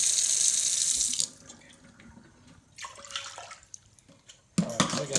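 Hot water gushes from a kitchen tap into a measuring cup for focaccia dough, a steady rush that stops, then a few drips and short splashes before the flow briefly starts again.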